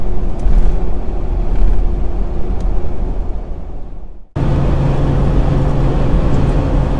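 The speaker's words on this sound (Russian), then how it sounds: "Скорость 100, шум легкий фоновый практически теряется на фоне звука двигателя." Steady, loud road drone inside a car travelling at 100 km/h, with engine noise blending with the hum of Mickey Thompson Baja Boss MT mud-terrain tires. It drops briefly around the middle, then resumes evenly. No talking.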